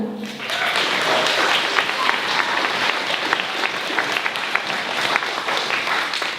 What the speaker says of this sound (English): Give them a clap for me.